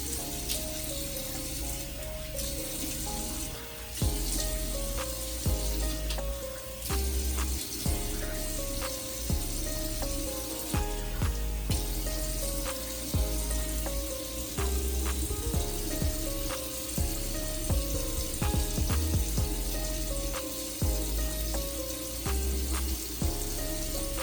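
Steady running water splashes continuously in a sink while someone rinses their face at night, a dense, close hiss with irregular drips and splatters throughout and no talking.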